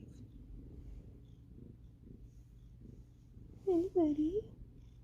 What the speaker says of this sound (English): we got a purring kitten who is happy as can be in his little blanket cave